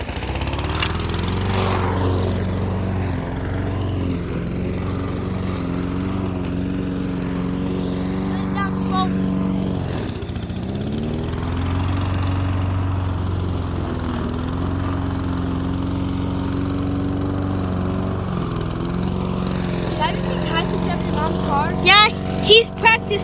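A lawn mower runs steadily while mowing a lawn, its engine drone loud and close, dipping briefly in pitch around turns, with occasional voices in the background.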